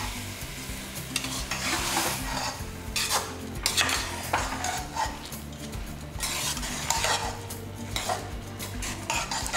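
Soaked rice and lentils are sautéed in a hot pan, with a steady sizzle under repeated metallic scraping and clinking of a spoon stirring against the pan, close by, with no talking.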